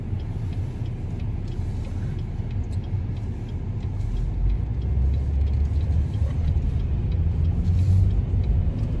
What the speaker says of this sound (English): I'll wait for these cars to go.